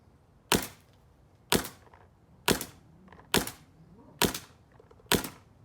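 A PE CS2 paintball marker fires six sharp single shots at an even pace, about one per second, each a loud crisp pop standing alone against faint background.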